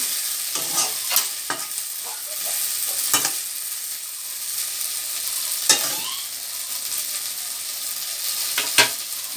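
Garam masala being stirred into taro (kochu) as it fries dry in a pan: a steady hiss of sizzling underneath, broken by a handful of sharp scraping strokes of the spoon against the pan, with no talking.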